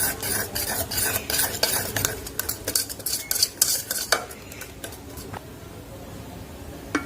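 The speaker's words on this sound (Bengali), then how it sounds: "খুব ভালোভাবে এটা ফেটিয়ে নিতে হবে। 10 মিনিট আমি এটাকে ফেটিয়ে নেব।" Boondi batter being whisked steadily in a bowl, a quick rhythmic series of clicks and scrapes that stays close and fairly loud with no talking, then eases off toward the end.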